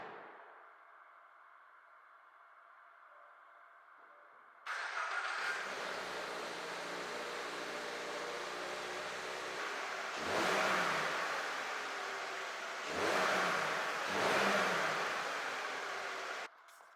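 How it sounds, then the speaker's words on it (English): A Toyota GR86 running its stock exhaust with the exhaust pieces off fires up and settles into a steady idle, then is revved twice in quick, loud bursts before the engine cuts off. "let me start the car."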